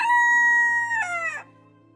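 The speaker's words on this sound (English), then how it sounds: "Rooster is a male chicken." A rooster crows once, a clear close call with a long level note that breaks into a falling, wavering tail before fading out.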